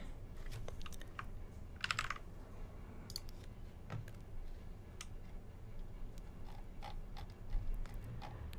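Computer keys are pressed in scattered clicks and short bursts, some quick runs of typing and isolated taps, close and fairly quiet in a room.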